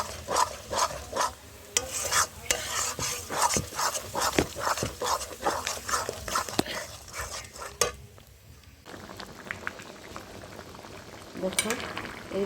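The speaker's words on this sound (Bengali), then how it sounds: "এই দেখো বন্ধুরা এখন এটাকে আমি তেলে ভাজা করব।" Bottle gourd leaf paste with cumin and ginger paste sizzles and bubbles in hot oil, stirred with steady scraping strokes. Close and loud, fairly constant, with a brief lull near the end before the frying picks up again.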